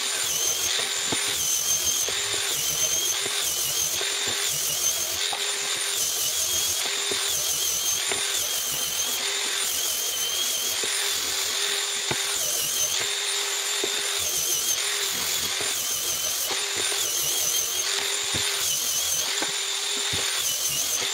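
An angle grinder set to a low speed sands wood for a cabinet door, giving a loud, high, whining buzz that pulses in repeated passes for about twenty seconds with no talking.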